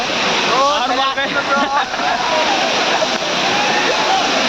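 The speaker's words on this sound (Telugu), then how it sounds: "అరే ఈరోజు మనం గంగావతి వాటర్ ఫాల్ దగ్గర వచ్చాం." Gandahati waterfall in heavy flow roars as a loud, steady wash of rushing water that runs the whole way through, with people talking over it near the start.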